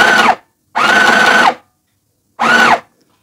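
A mini sewing machine runs in three short bursts, a fast whirring motor buzz that starts and stops abruptly with brief silences between runs.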